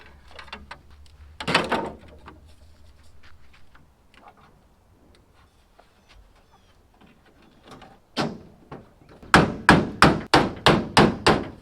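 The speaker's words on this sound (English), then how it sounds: "Hammer makes everything fit." Hammer blows on parts of a 12-valve Cummins truck: one isolated knock early, then a quicker burst of seven or so loud, evenly spaced strikes near the end, close and sharp with clutter between.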